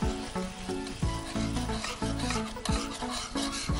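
Semolina is stirred into boiling water in a pot over a low gas flame, a steady rasping, scraping rhythm of spoon strokes repeating about once a second, close and fairly loud with no talk.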